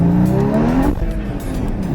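Porsche Cayman GT4 engine in sport mode, a rising rev followed by a sharp throttle blip on downshift, loud and close from inside the car, with a rough engine drone continuing afterward.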